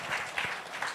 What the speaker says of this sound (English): Give a round of applause for Guneet Monga.